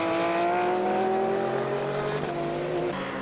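A Mercedes race car at the Hankook 12-hour endurance race in Hungary in 2014 roars loudly and steadily around the circuit, its engine note holding high and strong and then dipping slightly near the end.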